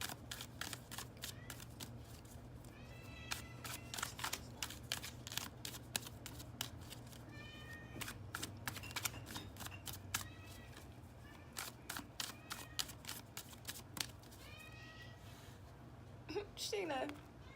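Tarot cards are shuffled close up in repeated crisp riffling bursts, with a person talking softly between and over the shuffles.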